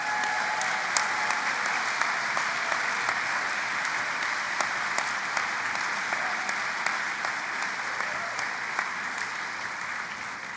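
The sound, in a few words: commencement audience applause for graduates' families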